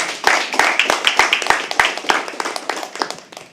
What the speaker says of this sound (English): Can we please have an applause?